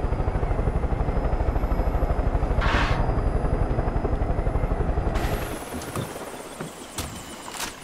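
A helicopter in the video game Far Cry 5 gives a loud, steady rotor chop with rapid rhythmic thumping, then cuts out abruptly halfway through, leaving quieter clattering game sounds.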